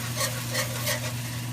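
A whisk stirs milk into sausage gravy in a pan, giving a soft, steady swishing with gentle periodic scrapes over a low continuous hum, close and without speech.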